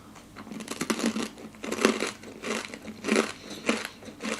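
Coco Crunch Nut, a coconut and nut snack, is crunched and chewed close up in a series of crisp bites with a loud, rhythmic crackle.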